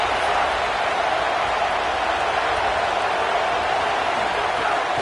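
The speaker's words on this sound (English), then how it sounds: "This crowd trying to make life miserable for this offense." A dense, steady roar of a stadium crowd at a college football game, loud and continuous throughout with no distinct breaks.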